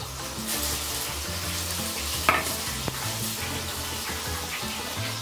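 Fish chowder with a splash of milk bubbling and simmering in a pot, a steady close hiss and gurgle with a couple of brief stirring clinks, no talking.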